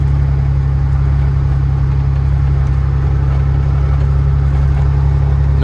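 A Freightliner FLD 120 semi truck idling with no other traffic around, a loud, steady diesel rumble that stays constant and unbroken throughout, with no talking.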